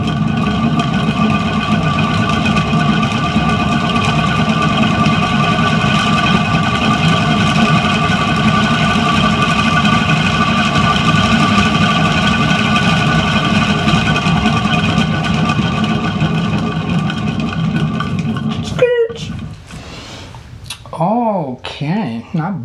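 A motorized spinner turns an acrylic paint pour, giving a loud, steady mechanical whir that runs almost the whole time, then cuts out and winds down near the end.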